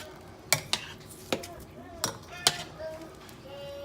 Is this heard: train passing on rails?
no